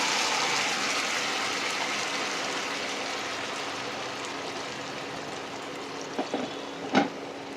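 Dates dropped into hot tempering spices frying in a pan for a date and mango-leather chutney give a steady, close sizzle and hiss throughout, with a few brief clatters and stirring sounds near the end.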